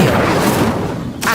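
A whooshing, crackling burst from an Incendio fire spell in Hogwarts Legacy, short and dense with a brief flare near the end.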